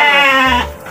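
A goat in a livestock pen gives one loud, close, wavering bleat during feeding, then a dull low thud follows.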